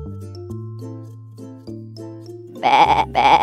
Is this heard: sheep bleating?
yes